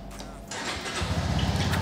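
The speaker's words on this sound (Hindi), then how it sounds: "ये मोटरसाइकिल स्टार्ट हुई" Suzuki Gixxer motorcycle engine cranks and fires up, quickly settling into a steady, close idle with a loud, even rumble; no talking.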